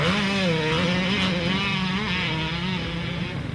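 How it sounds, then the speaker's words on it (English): A motocross bike races around a track during a pro session, its engine buzzing and revving in wavering, rising and falling pitches. It is heard at moderate distance, steady and unbroken, with no talk. "He's circling his way around on the motocross track."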